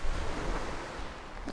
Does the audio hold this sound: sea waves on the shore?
yes